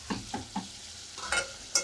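Onions frying in a pan are stirred with a utensil, giving several quick scraping strokes over a soft sizzle, close and fairly quiet.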